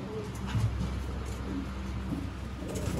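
Pigeons coo softly in a low, repeated murmur, with golden pigeons among the birds for sale at a breeders' market in Sialkot, steady and close without any talk.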